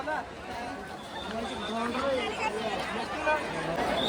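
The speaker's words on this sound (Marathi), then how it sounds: "बघू शकता मित्रांनो खूप गर्दी आहे इथं आता" Crowd at the Muktabai fair in Muktainagar with stalls around: a fainter, diffuse hubbub of many voices murmuring and chattering, continuous and somewhat distant.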